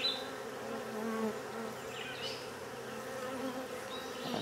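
Honeybees buzz around a frame at an open hive, a soft, continuous droning hum with individual bees briefly swelling louder as they pass close.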